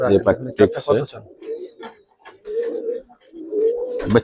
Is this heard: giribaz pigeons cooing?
yes